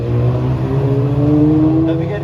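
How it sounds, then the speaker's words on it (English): A very quick turbocharged Datsun Z race car driven by Martin Falconer at a street-circuit classic race meeting, engine note rising steadily and loud as it accelerates out of a corner, with commentary talk running over it. "you can hear it spooling up as it exits the corner"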